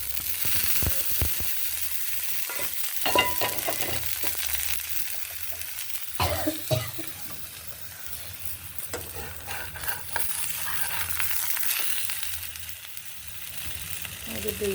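A dosa made from rice batter fries on a hot pan with a steady, close sizzle that lasts throughout, dotted with small pops and scraping clicks.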